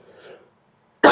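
A single sharp, loud cough bursts out near the end, close and dry, after faint murmuring during a lesson on analytic geometry.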